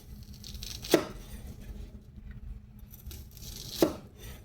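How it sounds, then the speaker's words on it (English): A knife chops a sweet onion on a cutting board, two sharp separate thuds about three seconds apart, close and fairly quiet against a low room hum. "Now to chop up this onion"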